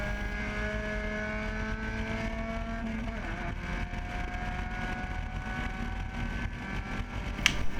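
A Spec Miata race car at Barber Motorsports Park, its engine droning steadily through a lap with rising and falling rev harmonics, close and continuous, with a brief sharp click near the end.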